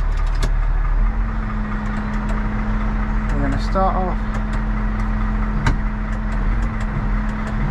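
A 4x4 engaged in low range idles with a steady low drone while someone speaks over it, the engine hum constant and close beneath his voice, with a brief gentle rise around the middle.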